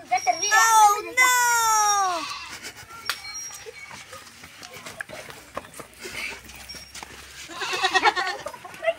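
A goat bleats loudly up close in a few wavering cries at the start, followed by quieter rustling and faint voices, with a voice rising briefly near the end.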